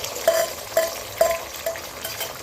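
Three eggs stirred and broken into crumbles in a hot kadai over high heat, a spatula scraping in several distinct strokes over a soft sizzle, close and alone.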